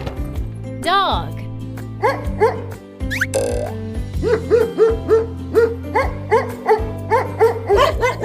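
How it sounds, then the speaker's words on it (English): A dog barks and yips in a farm-animal sound lesson, a quick series of sharp barks over background music, close and fairly loud. "Dog."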